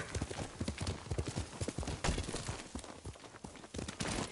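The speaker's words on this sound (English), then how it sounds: "Good horse, Kage" Horse hooves clip-clop in a steady galloping rhythm, close and loud, with occasional whinny-like bursts, from a horse in the video game Ghost of Tsushima.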